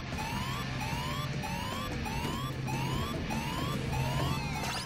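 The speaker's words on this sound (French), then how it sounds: "c'est la zone avec l'alarme, il faut faire gaffe" A looping electronic alarm in the Blue Dragon video game, rising whoops repeating about every half second alongside a low steady hum, continuous and fairly loud with no talking over it.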